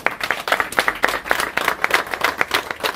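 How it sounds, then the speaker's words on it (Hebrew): Audience clapping at a Hanukkah house-dedication gathering, a steady patter of many hands that carries on through the whole stretch without a break. "מגיע לה כפיים"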